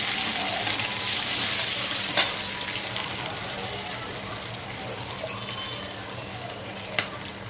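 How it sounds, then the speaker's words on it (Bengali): Cumin seeds and torn bay leaves are tempered in hot oil for a hilsa fish dish, giving a steady bright sizzle with a sharp crackling pop partway through and another near the end. "এটাই তেলে দিয়ে দেবো জিরে ফোড়ন"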